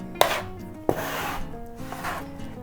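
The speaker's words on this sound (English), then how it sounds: "Scrape up anything that's stuck to your board." Scraper dragging across a board, scraping up stuck ravioli dough for cheese ravioli: two sharp scrape onsets followed by softer rubbing and scratching, close and fairly loud, no voices.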